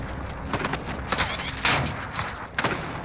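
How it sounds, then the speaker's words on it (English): Video game gunfire from behind the player in a 1-versus-17 match, a loud, close burst of rapid automatic shots with a few heavier cracks, continuous over a few seconds, with no talk. "You're getting shot from behind"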